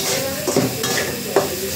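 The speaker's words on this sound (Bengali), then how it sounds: "এখন আমি এখানে চিংড়ি মাছটা ম্যারিনেট করা সহ মশলা সহ দিয়ে দিলাম" Marinated shrimp coated in spices hit a hot pan, giving a steady close sizzle with a few quick stirring scrapes and clinks over it.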